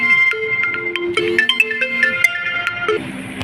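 A phone ringtone plays loud and steady through an incoming call, a bright repeating electronic melody running continuously for a few seconds.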